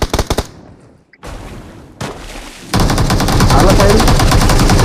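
Automatic weapon fire in the mobile game PUBG Mobile: a quick rattling burst at the start, a short lull, then sustained loud machine-gun fire, with players calling out over it.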